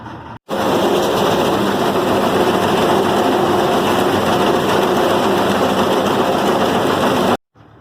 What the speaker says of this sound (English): We got the auger in the barn now, so now we'll fill up our bin here